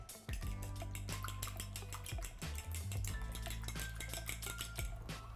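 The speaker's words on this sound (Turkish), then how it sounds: "Çırpıyorum." Egg mixture seasoned with salt and black pepper whisked in a bowl, a steady fast clinking of the whisk against the bowl, close and fairly quiet.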